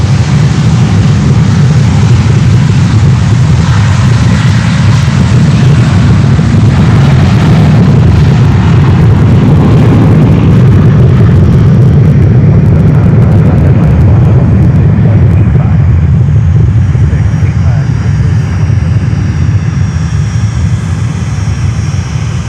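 An American Airlines airliner takes off at Fort Lauderdale, its engines a loud, sustained broadband roar that holds steady for most of the stretch and then eases off slightly as it climbs away.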